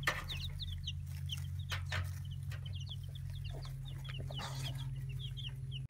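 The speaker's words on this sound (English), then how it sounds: "Look at all the little baby chickens." Baby chickens cheep in a steady scatter of high, quick calls with occasional clucks, set against a constant low hum throughout.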